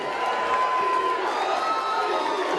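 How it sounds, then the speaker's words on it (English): Wrestling event crowd roaring and cheering wildly, a loud continuous wall of shouts and whoops with a sustained whistle or yell rising above it. "The crowd is going insane."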